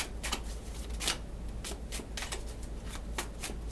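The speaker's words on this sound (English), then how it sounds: "these shuffle so much better than the other ones" Repeated riffling bursts of tarot cards being shuffled, close and crisp, in quick irregular waves over a low steady hum.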